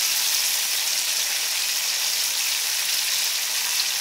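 Stuffed green chillies fry steadily in hot oil, a loud, even hiss of sizzling that holds without a break from start to finish, close up and with no voices.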